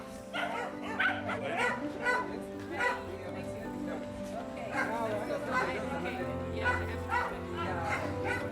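Dog at a rabies vaccination clinic in Malawi barking and whimpering in repeated yelps, close and fairly loud, under ongoing crowd chatter.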